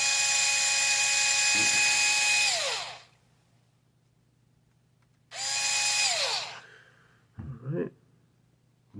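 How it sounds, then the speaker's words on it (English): A small electric screwdriver takes tiny motor screws out of a TRX4M Chevy Cheyenne RC truck. Two high-pitched whirring runs wind down in pitch as they stop, with light clicks and handling noises in between, close up. "We're gonna go ahead and do that real quick and take the motor out."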